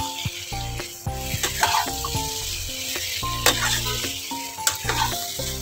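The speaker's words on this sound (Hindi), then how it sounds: "इसलिए हम लगातार इसे हाई फ्लेम पर चलाते हुए पकाएंगे" Masala soya chaap in yogurt sizzles steadily in a pan over a high flame while it is stirred constantly, with scraping and clinks of the spoon against the pan over a loud, continuous frying hiss, close up.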